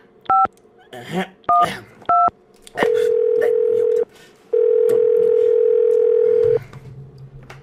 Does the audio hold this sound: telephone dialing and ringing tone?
yes